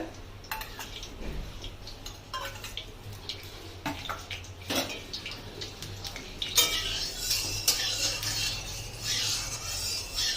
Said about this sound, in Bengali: দিয়ে দিচ্ছি সর্ষের তেল, আর দেবো সাদা তেল।